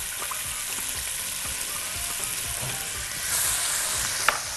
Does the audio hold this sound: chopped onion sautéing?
yes